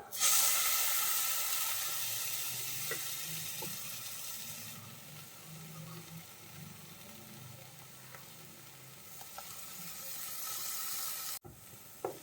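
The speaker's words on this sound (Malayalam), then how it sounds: "നമുക്ക് ഈ അരപ്പ് ചേർത്ത് കൊടുക്കാം" A paste of ground tomato, coriander and cashew sizzles softly in a pan for chicken masala, a faint steady hiss with a few light scrapes and small taps.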